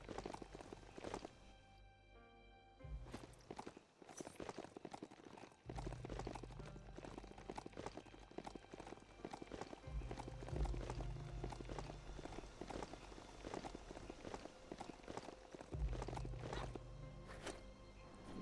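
Hoof footsteps of a mount in the video game Biomutant, a steady clip-clop of walking and running strides that carries on throughout over a continuous game soundscape, with no talking.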